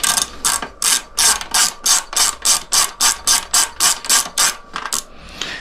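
A ratchet wrench with a 10mm socket backs out dirt bike seat bolts, giving a quick run of about fifteen evenly spaced, close, crisp clicking strokes with no voices.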